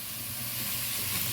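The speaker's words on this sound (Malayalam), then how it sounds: "നമ്മൾ അതിലോട്ട് ഉള്ളി ഇടുക" Sliced onions and shallots hit a hot pan of oil for a Kerala-style chicken curry, producing a loud, dense, steady frying sizzle up close.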